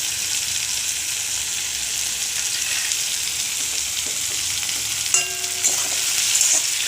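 Onions and tomatoes fry with salt and asafoetida in a pan, giving a continuous bright sizzle with a few light clinks of a utensil near the end.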